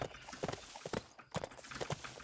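Horse hooves clop quickly as a horse runs down a slope in a Bibi & Tina video game, an uneven galloping rhythm of close, fairly faint hoofbeats.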